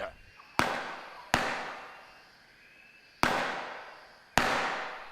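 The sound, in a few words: gunshots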